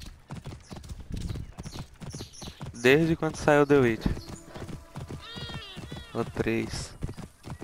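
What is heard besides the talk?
horse hooves clip-clopping in Assassin's Creed Origins video game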